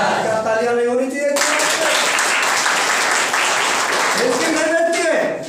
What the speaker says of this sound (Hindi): क्या तालियां नहीं होनी चाहिए?